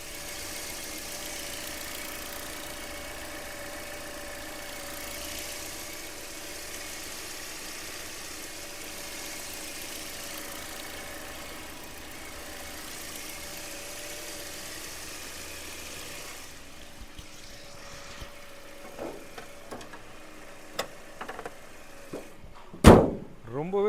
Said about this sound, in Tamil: இப்போ இன்ஜினோட சவுண்ட் எப்படி இருக்குன்றதை மைக்கை பக்கத்தில் வச்சு காட்டுறேன்